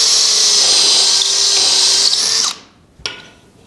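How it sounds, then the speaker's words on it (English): A power drill bores a dowel hole into a mitered rail for a bedroom dresser, a loud high whine held steady for about two and a half seconds, then cut off, followed by a brief tap. "we're going to drill through number 3"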